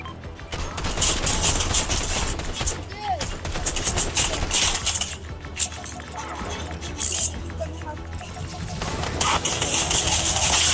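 Rapid bursts of machine pistol fire in a shooter video game, dense crackling volleys that run almost continuously and loudly, with a player's voice heard briefly between shots.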